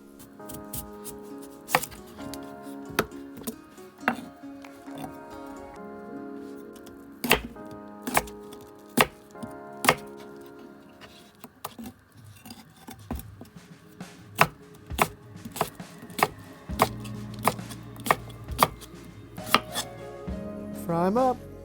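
A knife chops breakfast potatoes on a cutting board in sharp, distinct knocks, first spaced and irregular, then in quicker runs, close and clear with a faint background hum.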